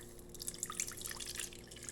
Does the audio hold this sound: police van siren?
no